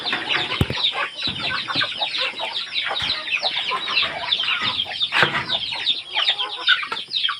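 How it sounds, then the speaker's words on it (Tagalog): Many chickens cluck and chatter together nearby, a busy, continuous flock sound with occasional sharper calls. "Tingnan natin yung mga alaga ng tatay ko, yung mga manok"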